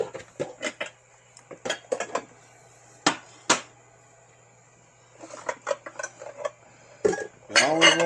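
Dishes clatter in a home kitchen as a bowl is pulled out from a stack: sharp ceramic knocks and clinks in bursts, close by, with short quiet gaps between them.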